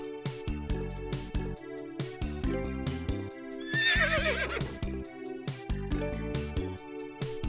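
Horse neighing in an RPG Maker video game, a single whinny rising over looping game music with plucked notes and a steady beat, no talking.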